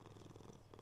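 A pet cat purring close by, a soft, low continuous rumble, faint and brief, with no voices.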